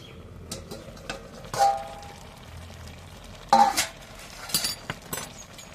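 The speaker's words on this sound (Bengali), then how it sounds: "এবার ঢাকনাটা খুলে নেব" A metal lid is lifted off a pot of half-boiled elephant foot yam stalks, giving a few bright metallic clinks and scrapes spread over several seconds, close by, with no talking.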